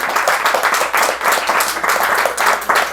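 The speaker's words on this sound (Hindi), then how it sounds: "एक बच्चों के लिए जोरदार ताली बजाएं" An audience claps for the children at a live devotional recitation in a home in Mississauga, Canada, with steady, dense applause filling the room throughout.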